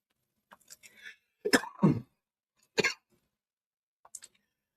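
A few short, sharp coughs in separate bursts, close to the microphone, with quiet pauses between them and a faint final cough.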